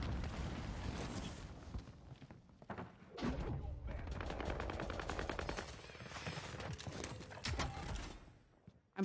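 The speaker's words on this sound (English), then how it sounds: "They're shooting me from up top." Rapid gunfire in a tactical shooter video game during a bomb-plant round, with enemies firing from above. Dense, sustained bursts and shots fill the clip, with a speaker talking briefly over them.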